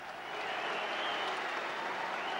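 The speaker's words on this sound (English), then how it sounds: "The crowd at the Valley absolutely buzzing for the first Cup tie to be played there for 8 years." Football crowd noise at the Valley for Charlton against Leeds in an FA Cup tie, a steady loud roar of a packed stadium with a broad wash of clapping and cheering throughout.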